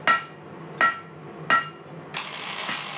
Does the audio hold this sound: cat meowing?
no